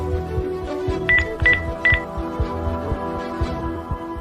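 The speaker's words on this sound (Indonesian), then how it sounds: "Biar aku coba telepon aja dulu." Phone dialing tones in Sakura School Simulator: three short bright keypad beeps in quick succession over steady game background music.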